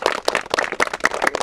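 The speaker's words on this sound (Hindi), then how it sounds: "इन दोनों साथियों के लिए एक बार तो तालियां बजा दें" Audience applause at a public gathering in Hardoi, a burst of clapping from a crowd that rises and falls in uneven waves across a short stretch.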